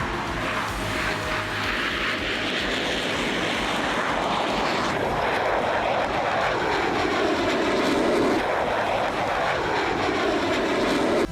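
An F-16 fighter jet in flight gives a loud, continuous roaring engine noise that fills the whole stretch, shifting in tone partway through as it passes.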